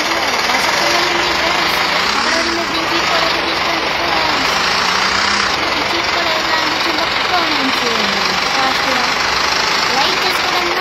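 The buggy car in the Indian Bike Driving 3D video game drones with a loud, steady engine note that rises and falls with throttle. Constant game background noise runs underneath it.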